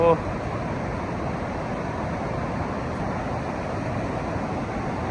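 Laos' largest and widest waterfall pours as a broad, constant roar of rushing water, heavy and unbroken, with voices present over it.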